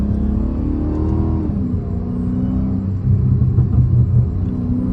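A widebody Dodge Challenger Hellcat drives on a snowy road, its engine giving a deep, steady rumble. The pitch rises and settles as gears shift through the paddle shifters.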